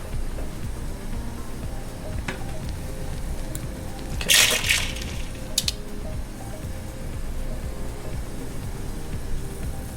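Water bubbling steadily in a pot as food is blanched, with a brief splash midway as something drops in, then a smaller one a moment later.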